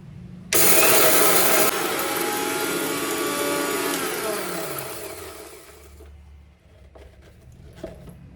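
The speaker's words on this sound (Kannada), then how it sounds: "ಇದು ನೀಟಾಗಿ ಗ್ರೈಂಡ್ ಆಯಿತು, ನೀಟಾಗಿ ಸಣ್ಣಗೆ ಪುಡಿ ಆಗಿದೆ ರೀ ಇದು." A kitchen mixer grinder grinds flax seeds into fine powder: the motor kicks in abruptly with a loud, high whirring roar, runs steadily for about five seconds, then winds down and stops, leaving faint kitchen sounds.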